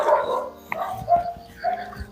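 A dog near a house in Wayanad barks and yips in a few short, moderately loud bursts, with a faint whimper between them.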